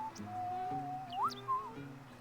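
A character whistles in Final Fantasy X, a clear lilting melody that holds steady, then swoops upward and settles into a higher note, with soft game music beneath.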